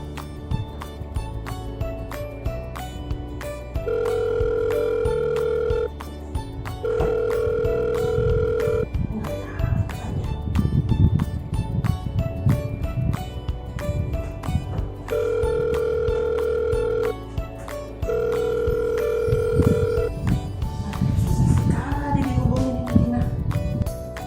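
Telephone tones repeat in a steady on-off pattern, with a sustained dial tone and ringing cadence sounding over background music.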